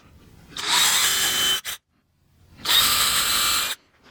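A power drill bores holes through a wooden shelf in two loud, close bursts of about a second each, with a brief blip and a short silence between them.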